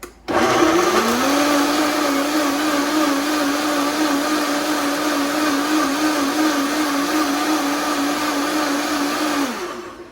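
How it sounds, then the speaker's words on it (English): A countertop blender runs steadily for about nine seconds, whirring loud and even as it purees a chilaquiles sauce, starting abruptly and winding down at the end with no talking. "Let's blend it all together and make our sauce."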